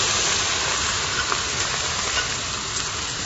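Freshly grated onion puree drops into hot oil in a curry pan, giving a steady, loud, bright hiss and sizzle that holds evenly for a few seconds with no talking.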